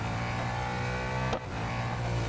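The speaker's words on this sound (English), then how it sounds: "I'm not a fan of this car's engine" A race car engine in the Real Racing 3 video game, a loud steady drone that holds its pitch, briefly dips once partway through, then carries on.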